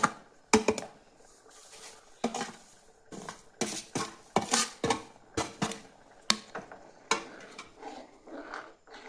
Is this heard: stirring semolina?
yes